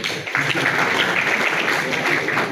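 An audience at a competitive-exam guidance talk in a school hall breaks into a short burst of dense, fairly loud clapping, with a voice mixed in underneath.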